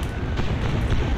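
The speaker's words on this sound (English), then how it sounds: "Explosions!" A dense, rumbling explosion in a Toy Story video game roars with heavy low-end boom and crackling noise, loud and sustained throughout.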